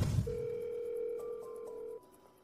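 A telephone call being placed, with a single steady ringback tone lasting nearly two seconds, clean and fairly faint, followed by a few shorter tones and quiet room noise.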